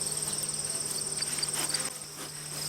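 Honeybees hum steadily around backyard hives in Swanzey, New Hampshire, a continuous high buzzing drone with faint passing individual bees and no talking.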